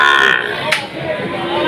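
At a cattle market in Tuban, Java, young male calves about five months old give a brief low grunting call amid nearby voices and market chatter.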